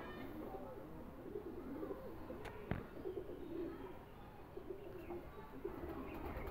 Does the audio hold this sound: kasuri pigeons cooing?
yes